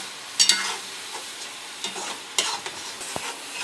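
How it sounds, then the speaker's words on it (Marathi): Paneer and tomato paste fry in a pan with a soft background sizzle, broken by several sharp scrapes and clinks as a spoon stirs against the pan. "त्याला थोडा आता फ्राय होऊ देऊया."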